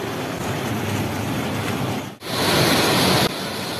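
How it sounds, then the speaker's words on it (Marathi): Vajar waterfall, hidden in dense forest near Chandgad in Kolhapur district, gives a loud, unbroken roar of falling water that dips for an instant and then comes back fuller. "तुम्हाला धबधबा बघायचा तुम्हाला दाखवतो"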